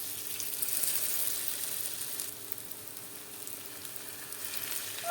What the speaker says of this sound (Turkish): Bu şekilde köfteleri kızartıyoruz.